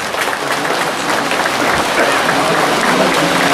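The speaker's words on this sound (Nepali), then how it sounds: "कृपया ताली लगाइदिनु चाहन्छु।" Steady crowd applause at a municipal ceremony in Nepal installing newly elected local representatives, loud, dense clapping held evenly throughout with faint voices underneath.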